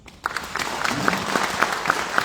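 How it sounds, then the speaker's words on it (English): Audience applause at a candidate forum, a short burst of clapping that starts abruptly and stays moderately loud, with a few sharper individual claps standing out against the crowd. "Let's give our council representative here a big round of applause"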